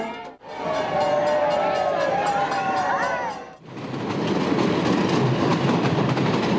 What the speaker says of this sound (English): Finally, the train reaches its destination.